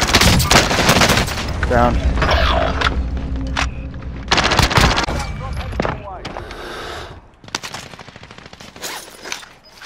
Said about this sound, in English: I'm up there shooting